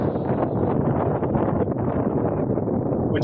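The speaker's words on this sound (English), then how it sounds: "That wind was in the teens and gusting maybe a little stronger there." Gusty wind buffets a microphone at an RC model flying field, a loud, continuous low roar that swells slightly throughout without pause.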